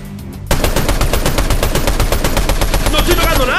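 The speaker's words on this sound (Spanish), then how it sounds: "¡Para de disparar!" Rapid automatic gunfire in Fortnite bursts in after a brief quiet moment, a loud, close, steady stream of shots hammering on to the end, with a voice faintly beneath it.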